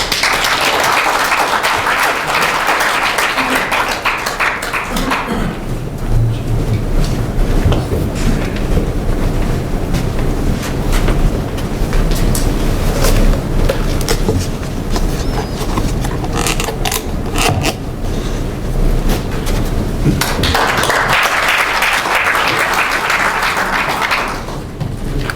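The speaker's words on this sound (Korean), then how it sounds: "고진아 목사님을 박수로 모시겠습니다." An audience at a humanities lecture applauding to welcome the speaker, a dense, loud, continuous roar of clapping that swells and holds for the full length without talk.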